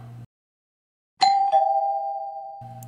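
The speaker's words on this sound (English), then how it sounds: "I hear the doorbell." A single doorbell chime rings out clearly in a quiet room, a bright struck tone followed by a second lower note that sustains and slowly fades.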